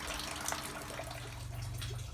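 Hot sparge water at 75°C pours steadily onto grain during beer brewing, a continuous rushing, splashing wash with no voices.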